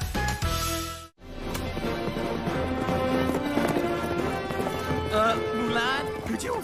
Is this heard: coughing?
no